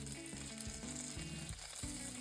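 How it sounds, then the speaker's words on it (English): Meat-stuffed bell peppers frying in a pan for a Japanese home-style dish, a soft constant sizzle behind a layer of steady low hum, with no voices. "A few minutes later, I turn over them again to cook the meat side well."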